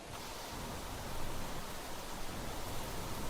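Steady, dense rain hisses without a break in Planet Crafter, a broad even wash of noise that stays close and fairly soft.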